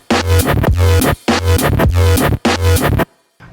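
A finger-drummed beat played on a MIDI controller with both hands mirroring each other, giving loud, dense repeating bars with punchy low hits and tonal layers, pausing briefly between phrases before stopping.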